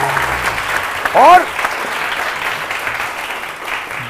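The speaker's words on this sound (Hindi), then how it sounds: "बहुत सारी तालियां मदिया सैदी के लिए" Steady applause from a studio audience on a Pakistani TV morning show, dense and continuous across the whole stretch, with a brief spoken word rising above it near the start.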